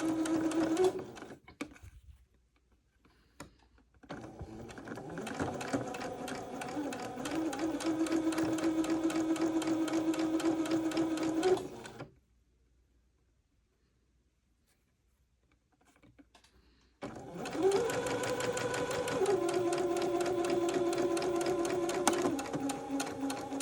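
Sewing machine zigzag-stitching fabric for an heirloom baby garment, running in two long steady bursts with a pause between, a close, even mechanical whir with a buzzing tone, no speech.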